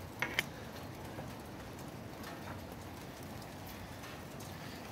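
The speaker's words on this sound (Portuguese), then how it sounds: "Tá apurando as chuvas," Steady, faint rain patter fills the background, with a couple of sharp ticks near the start and no one speaking.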